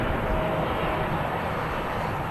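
A Boeing 787-9 arriving from Jeddah at Manchester Airport, a steady, even jet engine hum at moderate distance, short and continuous.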